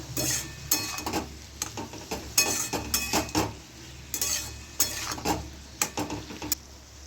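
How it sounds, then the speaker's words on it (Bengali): Spices such as turmeric and chili powder are stirred and fried in a pan, with a steady low sizzle under repeated scraping and clinking strokes of a utensil against the pan, close and moderately quiet. "ভালো করে মশলাটা কষে নেব।"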